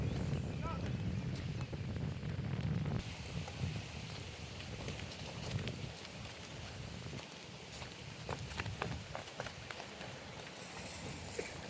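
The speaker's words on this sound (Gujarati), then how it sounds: "પવન આજ ફૂલ છે" Strong wind blusters steadily across the microphone outdoors at a farm field, a continuous rushing roar with gusty buffeting and a few knocks and footsteps underneath.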